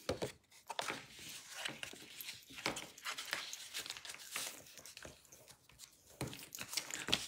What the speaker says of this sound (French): on va former nos plis avec le plioir